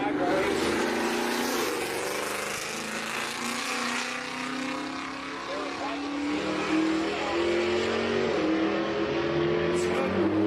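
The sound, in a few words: Camaro and Porsche 991 Turbo S drag racing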